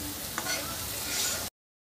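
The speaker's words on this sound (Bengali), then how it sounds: "এবার হাই ফ্লেমে দিয়ে মশলাটাকে আবার আমি ভাজা ভাজা করে নেবো" Spice paste with a little water frying over a high flame ahead of chicken, a dense, steady hiss of sizzling oil with a faint tap of a utensil, close by, cutting off abruptly.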